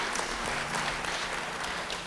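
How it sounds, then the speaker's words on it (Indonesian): Church congregation applauding, a dense, even wash of many hands clapping together, loud and sustained with a faint hum underneath. "Yang percaya beri tepuk tangan bagi dia."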